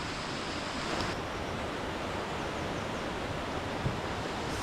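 A stream of running water flows among trees in a lush, shaded valley, a steady broadband rush heard continuously and fairly close, with no talking.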